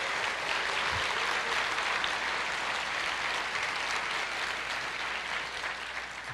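A crowd applauding steadily and fairly loudly throughout, dense clapping that holds at an even level with no talking over it.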